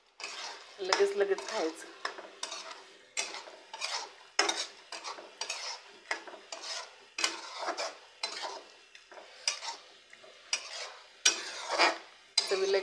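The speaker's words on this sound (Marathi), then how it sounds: "आता मी त्यात फरसाणा टाकते बघा" Farsan poured into a frying pan and stirred, bringing a run of metal spoon scrapes and clinks against the pan, with faint frying underneath and a brief voice at one point.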